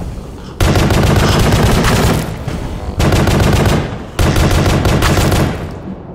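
Gunfire in the Pony Factory video game: three long, loud bursts of rapid automatic shooting, each lasting a second or more and separated by brief pauses, dense and close.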